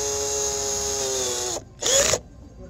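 An 18V Bosch Dremel-style impact drill driver, cordless and bivolt, whines steadily at a lower speed for about a second and a half, stops briefly, then gives one more short burst before going quiet; close and clear, with no talk.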